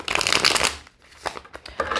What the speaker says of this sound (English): So I'm going to continue shuffling, but we're going to keep that cut in the deck in mind.